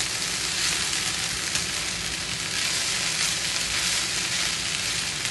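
Raw mango rice being stirred and frying in a hot pan, giving a steady, close, even sizzle that runs unbroken throughout with no talk.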